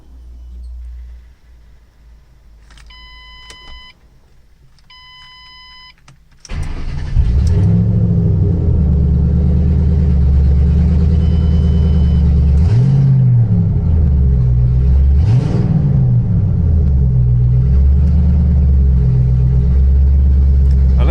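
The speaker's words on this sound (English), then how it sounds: "I love how this car sounds when it turns on" A few electronic chimes sound, then a Ford Triton engine cranks and catches with a loud rumble, settling into a steady idle with occasional revs.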